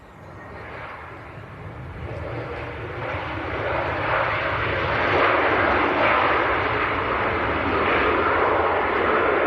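A Wizz Air airliner in special livery rumbles at Leeds Bradford Airport with a broad engine roar. The noise swells gradually and holds loud and steady, heard from some distance outdoors.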